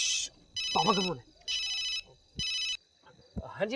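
A phone ringtone chimes in three repeated electronic bursts with short gaps, while a man hums a tune before and between the rings.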